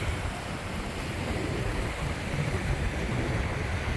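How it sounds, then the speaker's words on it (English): Strong wind sweeps across an exposed mountain tarn, a loud continuous roaring rush with buffeting gusts against the microphone and no voices. "you can probably hear from the wind up here"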